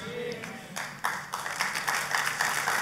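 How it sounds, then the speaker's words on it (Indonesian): A church congregation applauding during worship, clapping that starts sparse and swells into dense, sustained applause in a reverberant hall. "Kalau tepuk tangan bisa nggak tepuk tangannya yang lebih meriah buat Yesus yang luar biasa."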